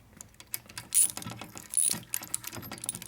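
A hand ratchet runs small bolts halfway into a gasket surface on a 1992 Harley FXR Evolution 88ci engine, giving quick, irregular clicking bursts that are close, light and somewhat faint, with no talk.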